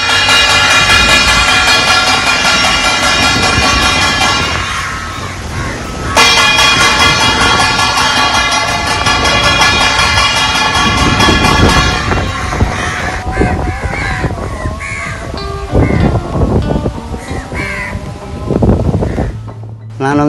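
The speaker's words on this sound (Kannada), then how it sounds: "ತಟ್ಟೆ ಬಡಿಯುವ ಶಬ್ದಕ್ಕೆ ಏಕಕಾಲದಲ್ಲಿ ಬಂದು ಸೇರುವ ಕಾಗೆಗಳ ಸಮೂಹ" A flock of crows gathers and caws loudly and repeatedly, overlapping calls near and far, while someone beats a plate to call them, the sharp strikes clustering toward the end.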